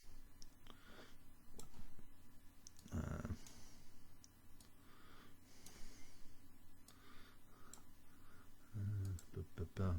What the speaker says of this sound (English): I'm just left clicking around it